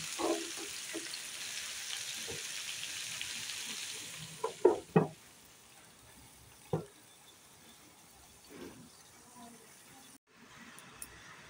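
Vegetables frying in a covered pan give a quiet, steady sizzle with a few louder clatters of the lid or utensil partway through, and a short pause near the end.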